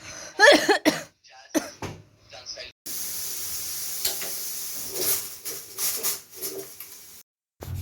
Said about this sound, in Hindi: यहाँ कुकर ने भी मेरी सीटी मार दी है